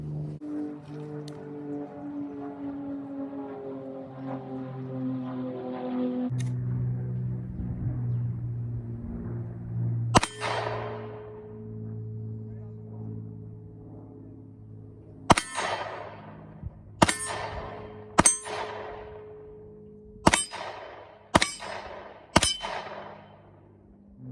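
A SIG Sauer P365 XL pistol fired at steel targets downrange by a tree line: after a low droning hum, about seven sharp, loud shots crack out at irregular intervals, each followed by a ringing metallic clang.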